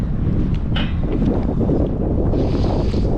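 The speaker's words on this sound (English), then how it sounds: "Oh my gosh, it's so windy." Steady wind in Singapore buffets the microphone, producing a constant low rumble and roar throughout, with a brief hiss partway through.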